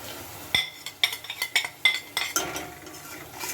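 Spices are stirred into browned onions in a pan with a metal spoon, making a series of sharp scraping clinks in an uneven rhythm over a faint sizzle.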